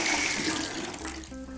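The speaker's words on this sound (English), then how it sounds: "And now just throw the water away." Rinse water from cleaning an espresso machine's group head is poured away into a sink, a brief close gush and splash lasting under two seconds.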